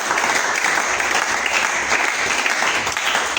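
A church congregation applauds, a dense, steady clapping from many hands filling the room without a break.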